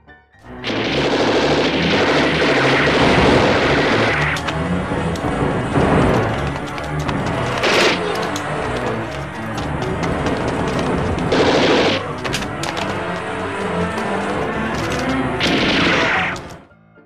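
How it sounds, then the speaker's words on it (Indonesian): Heavy gunfire fills a shootout between troops and terrorists inside a school. Sustained bursts of automatic fire and crashing impacts run almost without pause, loud and close, with no clear talk over them. "Kemudian aksi tembak-tembakan pun tak terhindarkan lagi."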